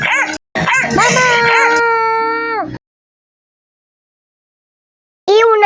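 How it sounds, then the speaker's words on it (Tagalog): A dog yelps and howls loudly and close by, then falls silent before a short final bark. "May aso na naman."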